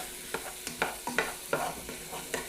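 Garlic stirred into flour in a pot, with repeated scraping strokes and a soft sizzle underneath, close and fairly quiet, no talking.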